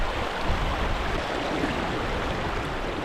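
Fast-flowing stream water rushing steadily in the Scottish wilderness, a continuous broadband roar with no pauses.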